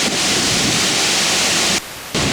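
Strong wind blasts loudly and roars close to the listener at an abandoned construction site near the Chernobyl nuclear power plant, a broad rushing gust that cuts out briefly before surging back.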